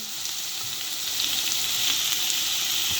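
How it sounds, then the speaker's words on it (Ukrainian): Steady, close sizzling of onion frying in butter in a pan over medium heat, a dense crackle throughout with no talking. "додаємо цибульку та обсмажуємо її на середньому вогні"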